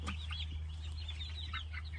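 Backyard chickens cluck softly while pecking at freshly cut mulberry branches, with steady short calls over a low constant hum.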